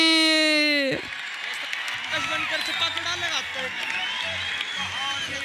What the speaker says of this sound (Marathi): जरा टाळ्या करा त्याच्यासाठी